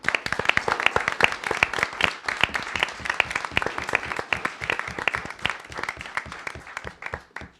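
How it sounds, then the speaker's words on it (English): A debate final audience applauds with a modest round of clapping, individual claps distinct and uneven, fairly close and moderately loud, tapering slightly toward the end. "A round of applause."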